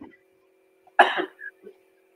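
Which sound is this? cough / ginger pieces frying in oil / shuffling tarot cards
cough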